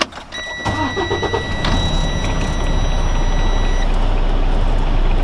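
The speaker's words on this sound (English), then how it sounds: "Now we're going to start the vehicle" A truck's large engine cranks over and catches before a brake test, then settles into a loud, steady idle rumble, with a brief high beeping tone early on.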